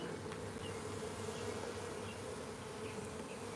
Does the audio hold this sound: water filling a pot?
no